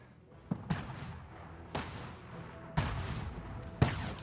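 Gunfire and artillery during an island attack in the strategy game Anno 1800, a handful of heavy booming blasts spaced about a second apart, each rolling off into a rumbling tail, fairly loud over a low game backdrop.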